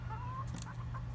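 Brief soft clucking from a couple of older hens nearby over a low background hum.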